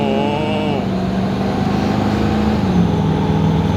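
An 800-horsepower diesel GMC dually pickup accelerates as its turbos spool, a loud continuous drone with a rising whistle over a low engine rumble, filling the whole stretch without pause.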